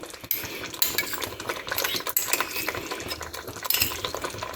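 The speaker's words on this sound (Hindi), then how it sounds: "अच्छी तरह मिक्स करना है।" A spoon stirs pizza sauce with ketchup and chili sauce in a bowl, giving close, continuous clinking and scraping with a few sharper taps, and no voices.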